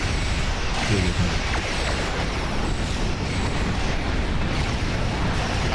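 A torpedo explosion in the space combat game Star Trek Online roars as a loud, sustained, broadband rumble that fills the whole stretch without letting up.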